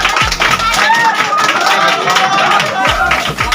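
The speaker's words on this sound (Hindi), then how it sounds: "ताली लगाई जोरदार ताली" A group of children in a classroom quiz game claps loudly and steadily, with dense, continuous hand-clapping filling the whole stretch.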